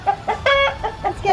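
A sick hen clucks in a rapid series of short, nasal calls close to the microphone, several bursts over a second with one longer, louder squawk in the middle.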